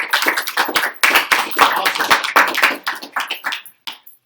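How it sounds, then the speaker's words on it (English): A live audience at a Real Madrid Q&A event in Chicago claps for a guest. The applause is close and fairly loud, made of dense, uneven claps that gradually thin out and fade to a few last scattered claps. "Round of applause for Rob."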